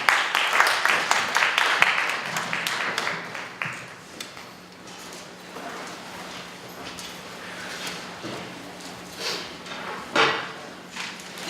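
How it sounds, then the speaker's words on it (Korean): A church congregation claps in thanks, a burst of brisk applause at first that thins into scattered, fading claps, with a faint low hum beneath. "우리 같이 감사의 박수로 함께 맞이해주시면 좋겠습니다."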